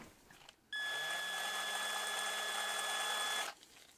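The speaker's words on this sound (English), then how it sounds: "I'm going to just hit that with my drill quick" A power drill drives into a Hot Wheels Volkswagen bus camper model, a single steady whirring burst of about three seconds, close and loud, starting and stopping abruptly.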